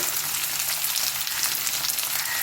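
Chopped ginger and garlic frying in hot oil in a pan, a loud, close, continuous hissing sizzle with no talk.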